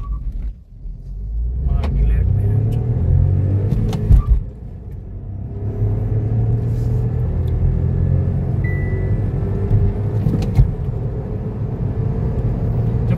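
A Skoda Kushaq 1.0 TSI and a Hyundai Verna accelerating hard in a drag race, heard as a loud, sustained engine rumble and road roar, with voices talking over it.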